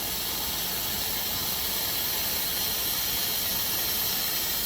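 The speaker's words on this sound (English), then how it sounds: "As you can see, there's the steam coming out." A Happyvergo steam shower generator releases steam with a steady, loud, even hiss that continues unbroken from start to finish, with no voices.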